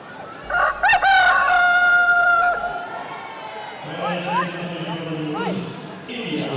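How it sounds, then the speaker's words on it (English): A recorded cockerel crow rings out over a rugby sevens stadium PA at the end of a women's match in Clermont-Ferrand, loud and clear, followed by a commentator talking over crowd noise. "The French cockerel sounds over the PA system to signify the end of this particular match"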